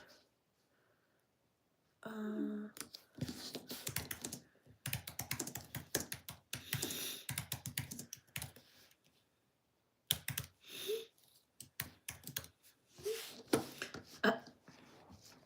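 Bursts of quick keyboard typing as a message is written on a computer, clustered clicks with short pauses between runs, fairly quiet and close, with no talk.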